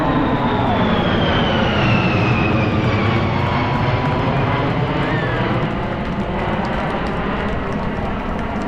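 A military aircraft passes overhead with a loud, sustained engine roar that fills the whole stretch, steady and close, with a faint whine sliding down as it goes by.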